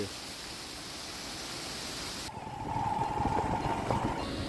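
The Octopus waterfall on the Tilicho Lake trek in Manang gives a steady, broad rush of falling water close by, shifting to a louder churning roar partway through with no voices.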